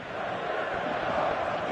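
A packed football stadium crowd in the video game eFootball 2027 roars steadily and loudly, a dense, continuous wall of cheering with no breaks.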